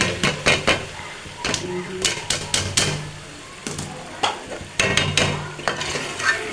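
Potatoes and green beans fry in a pan for a dhaba-style sabzi, with a steady sizzle running under repeated stirring and scraping clinks of a spoon against the metal pan.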